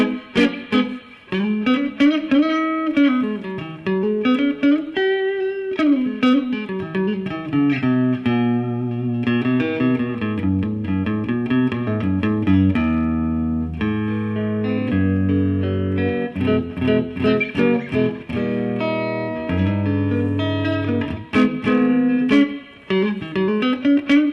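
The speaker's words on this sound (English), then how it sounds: "I'm on the bridge pickup. Let's listen to how this thing sounds." A 1966 Mosrite Ventures II electric guitar on its bridge pickup plays a bright, twangy run of bends and quick phrases, with a lightly driven tone, continuous and up front.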